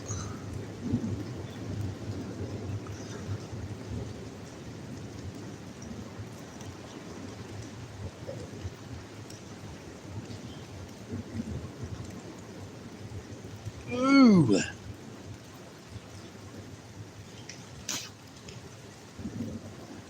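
Steady rain hisses with a low windy rumble throughout, and a single sharp crackling burst rises midway before the downpour continues.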